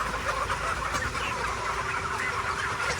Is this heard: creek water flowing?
no